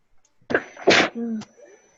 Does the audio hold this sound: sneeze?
yes